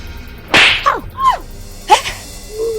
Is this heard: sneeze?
no